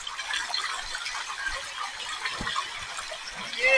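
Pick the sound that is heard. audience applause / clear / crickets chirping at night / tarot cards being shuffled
clear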